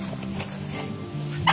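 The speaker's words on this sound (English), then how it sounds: "2 turkeys." Turkeys gobble on a farm near a chicken house in a loud, rapid, burbling run that ends in a sharper burst of gobbling, close up with steady background noise and no talk during the call.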